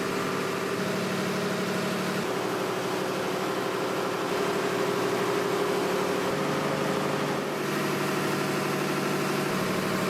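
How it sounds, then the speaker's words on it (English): A Mitsubishi 600-horsepower marine engine runs in a tugboat engine room, a dense, steady close-up drone with continuous mechanical clatter and hum and no break throughout. "lies the heart of the tugboat, a Mitsubishi marine engine that produces 600 horsepower to propel the vessel"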